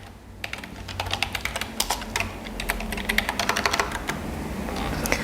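Steady computer keyboard typing as keys are pressed while entering corporate tax figures in accounting software, a dense run of close, crisp clicks with irregular rhythm, alone without talk.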